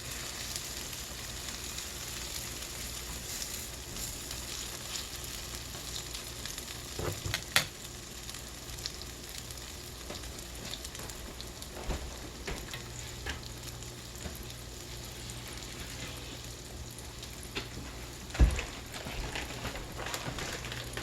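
Eggnog-soaked French toast frying in butter in a pan gives a constant crackling sizzle close by, with occasional sharper pops and spatula clicks, and no speech.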